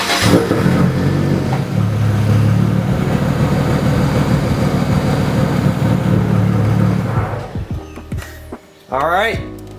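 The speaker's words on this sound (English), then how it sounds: "I'm gonna go ahead and try and start the car just to make sure the battery functions as it should" A BMW engine starts after a lightweight battery install, then idles with a low, steady rumble that drops off near the end, where a voice begins speaking over it.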